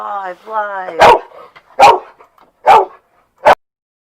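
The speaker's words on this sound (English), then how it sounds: "I cannot have her barking like that." A pet dog barks indoors, giving four loud, sharp barks spaced evenly and close by after a brief whining whimper at the start.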